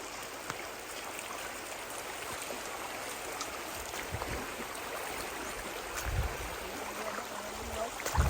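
A stream on a durian farm flows steadily with a soft, even rushing hiss, fairly quiet and unbroken, with a few faint splashes or knocks near the end.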